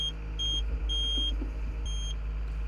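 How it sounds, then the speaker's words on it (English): High-pitched electronic beeping from the pin grabber quick coupler on a Komatsu excavator during unlocking, four evenly spaced tones over a low steady engine hum, with no talking. "What you will hear is a higher frequency beeping"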